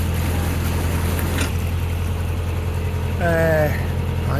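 A hire narrowboat's diesel engine chugs at a low, steady idle close by as it passes on a canal, while a voice speaks briefly over it.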